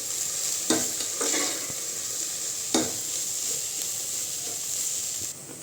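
Avalakki bath with turmeric and salt being stirred in a pan, a steady close sizzle with a few sharp scraping strokes of the spoon, no talking.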